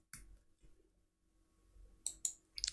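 Password keys tapped on a computer keyboard: a few scattered soft clicks at first, then a quick cluster of sharper keystrokes near the end, close and quiet, with no one talking.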